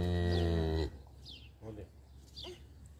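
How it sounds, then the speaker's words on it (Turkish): A cow lets out a loud, drawn-out moo outdoors in a meadow, cutting off abruptly, followed by a quieter stretch where a voice speaks softly over the open-air background. "İnek ne diyor Ayaz?"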